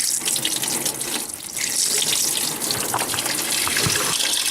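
Coolant gushing out of a pulled radiator hose on a Ford Mustang, a steady loud splashing pour of liquid that continues throughout with no talking.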